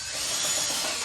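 A broken power drill, apparently stuck with its bit in work on a 1974 Ironhead chopper, runs steadily with a loud, continuous high whine and no pauses.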